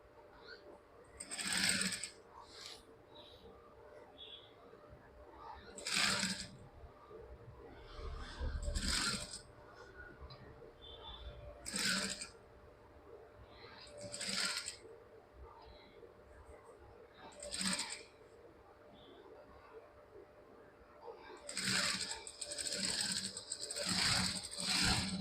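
A sewing machine stitches a school uniform chudithar in short separate runs, each burst of rapid mechanical whirring and clatter lasting a second or two, with quieter pauses between.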